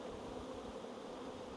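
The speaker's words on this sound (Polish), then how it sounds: "Ciepełko jest, pszczoły latają jak szalone." Honeybees fly around an apiary on a warm day, a steady dense buzzing drone close by with no voices.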